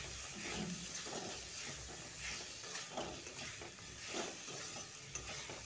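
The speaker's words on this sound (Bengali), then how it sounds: "মটরশুঁটিগুলোকে দিয়ে মশলার সাথে ভালো করে কষিয়ে নিচ্ছি।" Green peas stir-fried with spices in a pan for a cabbage and new potato dish, a steady close sizzle and hiss broken by the scrape of stirring, with no voices.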